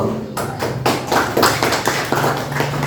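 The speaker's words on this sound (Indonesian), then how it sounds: "Tepuk tangan dulu." A classroom of students claps hands together in loud, close bursts of uneven rhythmic clapping with dull thumps mixed in and almost no talking.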